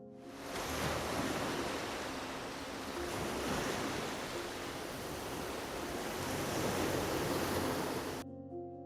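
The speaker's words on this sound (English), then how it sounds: "with the sound of waves crashing in the background" Ocean waves crash and surge in a dramatic scene, forming a continuous, loud roar of surf that swells and eases over several seconds before cutting off abruptly.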